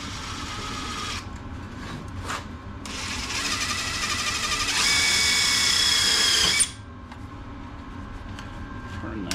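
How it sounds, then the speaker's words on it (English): Power drill driving a self-tapping screw to mount an insulated clamp on a diesel heater, a whirring motor that rises in pitch and loudness over several seconds, then cuts off abruptly. "I'm gonna put this right on the back here with a self-tapping screw"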